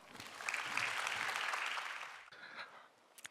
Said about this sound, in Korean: 큰 박수로 김성민 팀장님을 모시겠습니다.